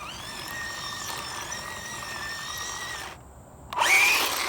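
A RUKO Q111 1:12 scale RC military assault tank drives in circles with a steady high motor whine and gear chatter, holding even for about three seconds before a brief drop and a louder rising burst.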